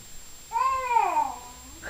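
A kitten gives a single drawn-out meow that rises and then falls, clear and fairly close, lasting under a second against a quiet background at an Easter gathering, with no talk over it.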